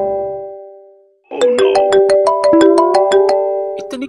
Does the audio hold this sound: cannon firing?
no